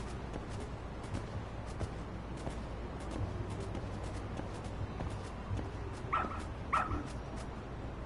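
In the video game Lost Judgment, a dog gives two short, sharp barks a moment apart, faint over a quiet, softly ticking background.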